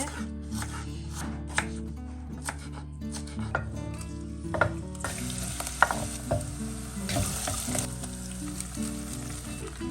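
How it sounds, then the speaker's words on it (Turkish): A single pepper is chopped on a board in a home kitchen while vegetable rice with tomato and onion is being made; close, steady knife taps sound over continuous background sizzling from frying food. "Şöyle bir tane biber kalmış. Onu da doğrayacağım."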